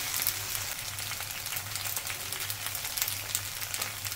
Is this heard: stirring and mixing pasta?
yes